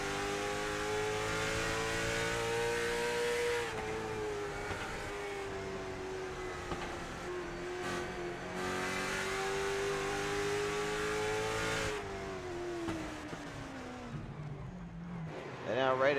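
Race car engines droning and shifting pitch as cars head down pit road at Myrtle Beach Speedway in a racing game, a steady hum under an announcer's commentary.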